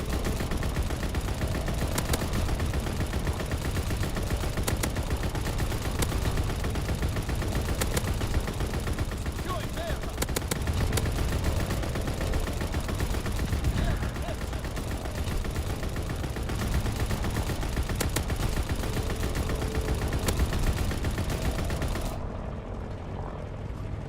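Ball turret gunner firing in Call of Duty WW2: dense, continuous rattling gunfire over a heavy aircraft engine drone, loud and unbroken for the whole stretch before cutting off near the end.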